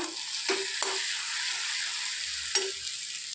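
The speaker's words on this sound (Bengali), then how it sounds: "তো এখানে মাটন কষানো হচ্ছে" Mutton fries with spices in a pan, giving a steady close sizzle broken by a few short scraping stirs of a utensil against the pan.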